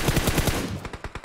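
Rapid automatic gunfire from a video game rattles off in a tight burst of about a dozen shots at an even rhythm, moderately loud, with no voices over it.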